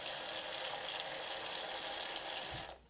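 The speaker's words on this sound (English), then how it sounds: "Add some water." Water pours steadily into a container holding dry bath bomb powder, a continuous close splashing rush that cuts off near the end.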